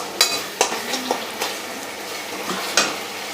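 Panch phoron spices fry in a pan while a utensil stirs them, giving a soft sizzle broken by about five sharp metallic scrapes and clinks at uneven intervals.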